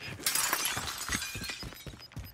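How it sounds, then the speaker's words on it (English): Glass shatters and breaks apart in a shooter video game, a dense burst of crashing shards followed by a scatter of smaller tinkling impacts, loud and close over about two seconds. "There I go again, breaking glass."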